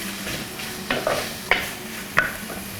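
Sliced onions and green chillies sauté in a pan for toddy-shop style fish head curry, giving a low steady sizzle broken by a few sharp clinks and scrapes of a spoon stirring.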